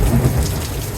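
Heavy thunderstorm rain pours steadily onto surfaces while low thunder rumbles underneath, loud and continuous with no voices.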